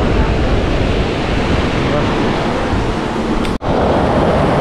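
Rough sea surf washing steadily at a coastal fishing spot, a broad continuous roar mixed with wind buffeting the microphone, with one brief dropout.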